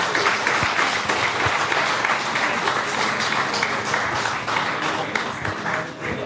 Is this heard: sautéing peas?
no